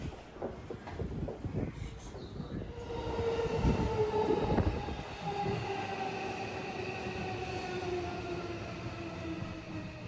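A train rides through the Tokyo rail network, its steady rumble and wheel noise continuous throughout, with rising and falling squealing tones from the wheels or motors and no talking.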